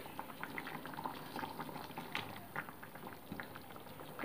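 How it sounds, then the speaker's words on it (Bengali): Boal fish curry with cauliflower and potato simmers in its gravy, a dense, even bubbling and popping that stays close and steady from start to finish. "মাছগুলোকে ঝোলের মধ্যে ডুবিয়ে দিচ্ছি আমি।"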